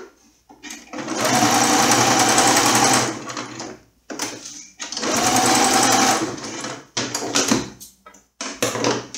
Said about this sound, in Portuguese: Aqui eu vou rebater uma costurinha aqui, pra mim cortar.